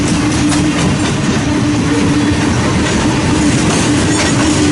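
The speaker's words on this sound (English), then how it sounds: "Westbound empty coal drag, passing this eastbound manifest that's going through Omaha into Council Bluffs." Two freight trains pass at once near Fremont, Nebraska: a westbound empty coal drag and an eastbound manifest bound through Omaha into Council Bluffs, making a loud, steady rumble with clattering wheels and a sustained squeal throughout.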